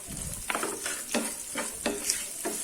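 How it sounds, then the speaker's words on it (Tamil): Small onions sauté in a pan for garlic rice, a soft sizzle punctuated by repeated spatula scrapes and stirs at an uneven rhythm, close and fairly quiet. "வெங்காயம் கொஞ்சம் வதங்கட்டும்."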